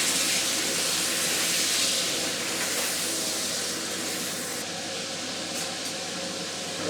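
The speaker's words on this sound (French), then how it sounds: "c'est du cognac qu'on met pour flamber avec une sauce au poivre" Cognac flambéing in a hot pan for a pepper sauce with veal fillet, a steady loud rushing hiss and crackle that holds for several seconds, easing slightly toward the end.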